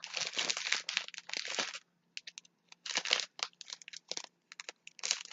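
Plastic wrapping around the tassel of an eyeshadow palette bag crinkles and crunches up close in bursts of rustling, with short pauses between handling.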